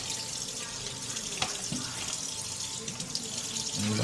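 Water runs steadily from a tap into a sink while something is rinsed, a constant close hiss with small splashes and a brief knock partway through.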